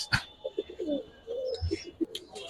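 Giribaz and colouring pigeons coo in a series of soft, rolling calls at close range, with a sharp burst of noise at the start and further gentle coos mixed with faint rustling.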